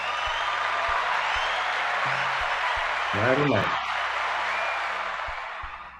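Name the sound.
audience applause and clapping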